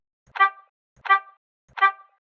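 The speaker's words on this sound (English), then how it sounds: "that way all you get is that like isolated horn sound." A car horn sample, EQ-filtered to strip the highs and lows, honks three times in an even rhythm, each short blast clean and isolated with silence between.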